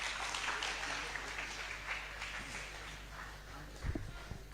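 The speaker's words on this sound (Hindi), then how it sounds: "एक बार आपकी तालियां फिर एक बार उठें" Applause from the audience at a Hindi poetry recital, a faint and steady spread of clapping heard at a distance, with a few louder knocks near the end.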